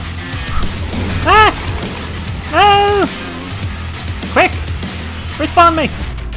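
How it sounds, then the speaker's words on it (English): In the Minecraft Dungeons video game, a dog gives several separate barks and yips spread across a few seconds, loud and close, over a low steady background hum. "Get away from the dog!"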